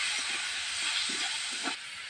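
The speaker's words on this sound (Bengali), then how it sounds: "আমটাকে একটু ভাজা ভাজা করে নেবো।" Raw mango pieces with salt and turmeric fry in a pan with a loud steady hiss and sizzle, broken by a few soft knocks and stirring sounds before the sizzle eases slightly near the end.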